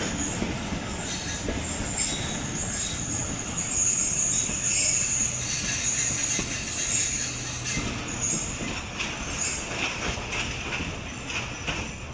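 The 13 Up Awam Express locomotive-hauled train rumbles steadily at close range at Taxila railway station, steel wheels squealing and grinding over the tracks throughout, with no voices.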